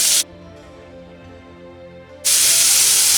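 Chopped onion goes into hot oil with cumin in a pan for a drumstick-leaf ragi adai, and a loud, bright sizzling hiss cuts off briefly, then surges back just as strongly.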